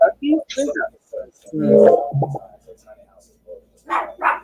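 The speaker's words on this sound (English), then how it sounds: "Uh-oh, you freaked out the dog." A dog barks a few times in a home during a live video call, a short burst of loud yips and woofs mixed in with people chatting nearby.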